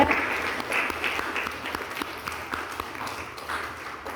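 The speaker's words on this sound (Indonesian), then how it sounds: "Tepuk tangan lagi." A classroom group applauds a student for a few seconds, the clapping fairly close and moderately loud, with individual claps audible within a loose, uneven rhythm.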